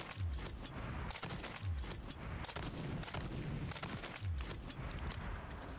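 Bursts of gunfire from the JAK Protean kit weapon in a shooter game, rapid repeated shots in several evenly spaced volleys, fairly loud against a busy game background.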